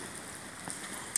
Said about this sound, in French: T'as la pluie qui te mouille, ça te traverse